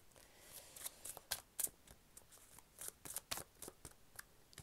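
Tarot cards are shuffled by hand in a series of soft, papery riffles and slides, close and quiet, in irregular short bursts with no talking.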